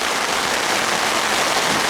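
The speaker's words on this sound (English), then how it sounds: "this is an old Nash bivvy now, given to me by Dave, and not a drop of rain's getting in" Steady rain drums on an old Nash bivvy at a fishery, a dense, even patter heard close and loud with no talking.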